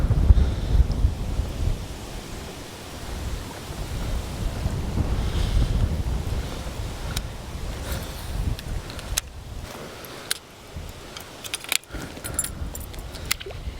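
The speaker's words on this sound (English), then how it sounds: "This little point right here has been getting hit by some pretty good wind." Steady wind buffeting a lake point with lily pads during fall bass fishing, a continuous broadband rush with microphone gusts and faint lapping water, plus a few sharp metallic clinks near the end.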